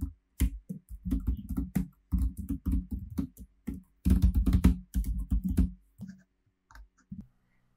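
Keys tap on a computer keyboard as text is entered into form boxes, bursts of close, crisp clicks in uneven rhythm with brief pauses, ending in a few lighter taps.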